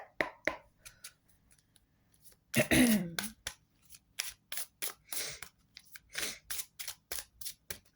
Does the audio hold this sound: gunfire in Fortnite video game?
no